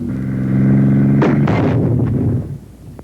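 An anti-tank weapon fires at a tank: a loud, low roar of engine drone breaks into a heavy blast with a sharp crack and rumbling tail that fades out.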